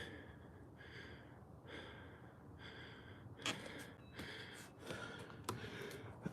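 Heavy, rhythmic breathing after boxing bagwork: repeated sharp gasps and snorting exhales in close succession, near and fairly quiet, with no talking.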